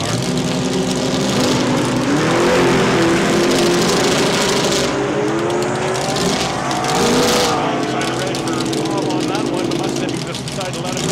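A modified late-90s Mustang drag car, no longer stock, runs down the strip at Saskatchewan International Raceway during test and tune, its loud engine roaring steadily throughout with a rising, shifting pitch, with a commentator talking over it.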